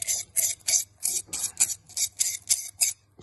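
Rhythmic scraping strokes, about a dozen quick back-and-forth rasps of a sanding blade against the metal cylinder bore of a Rootes 1600 engine, close and steady.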